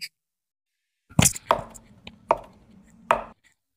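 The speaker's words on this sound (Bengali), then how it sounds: "এবার এখানে কেটে নিচ্ছি আলুগুলো" A knife chops through unpeeled potatoes and radish on a cutting board, four crisp, separate strikes at an uneven pace, close and clear against a quiet background.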